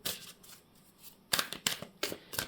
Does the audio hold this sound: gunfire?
no